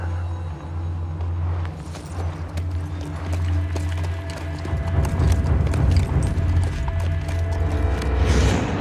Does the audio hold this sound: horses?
yes